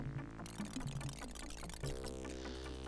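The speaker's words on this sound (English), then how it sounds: "That has to be possibly the worst water noise in any game ever." Crude water pouring effect from the old computer game Dark Seed, a steady synthetic liquid rush lasting a few seconds, heard over looping game music with a tonal melody.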